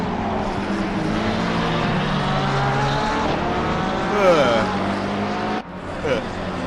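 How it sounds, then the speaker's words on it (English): A Porsche race car taking a corner during a 24-hour endurance race at Barcelona, its engine note droning steadily, then sweeping in pitch as it passes close, followed by an abrupt drop, with a commentator talking over it. "And around the corner goes the Porsche."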